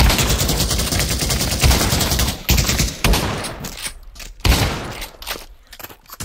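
Sustained volleys of gunshots in the VR shooter Pavlov, loud and continuous at first, then thinning into separate bursts with short gaps toward the end.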